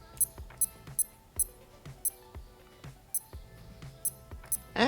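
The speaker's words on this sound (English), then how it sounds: "Now test the buttons out and the beeps." Short electronic beeps from the buttons of a modified Casio A168 digital watch, about ten crisp high-pitched chirps spaced irregularly, close up and alone, with soft clicking under them.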